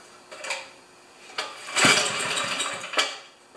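A small engine is pulled over without choke after a richer fuel mixture, giving short sputtering catches and a brief rough burst that dies away, close by in a workshop.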